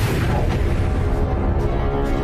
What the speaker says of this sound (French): Il se produit une supernova, une violente explosion stellaire.